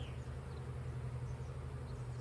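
Honey bees buzz around an opened hive while a beekeeper shakes them into a box to make a split: a steady, low, droning hum, faint and continuous throughout.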